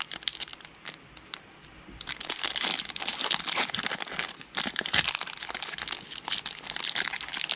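A Magic the Gathering Double Masters booster pack wrapper is torn open and crumpled close to the mic, with a quiet start followed by several seconds of continuous crinkling and tearing foil.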